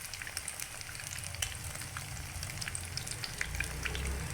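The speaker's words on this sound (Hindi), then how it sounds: "सारी टिक्कियाँ हमने ऑयल में डाल दी हैं। अब हम देखेंगे ये कितनी फ्राई हो चुकी हैं।" Potato tikkis fry in oil in a pan. A quiet, steady sizzle runs throughout with small crackling pops and no talk.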